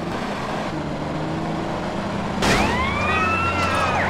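Ambulance siren in Grand Theft Auto San Andreas, a steady sweeping wail that suddenly grows louder and sharper midway, as if the vehicle comes close, over a constant engine rumble with no talking.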